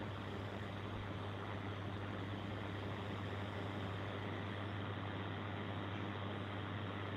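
A lowboy truck drives steadily with a constant low engine drone and broadband road rumble, no voices.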